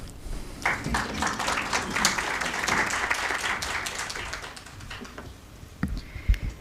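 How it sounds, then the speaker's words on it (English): Audience applause at an AI labour town hall in Kenya, a dense burst of clapping that swells quickly, holds steady for several seconds, then thins into scattered final claps. "This is where we clap."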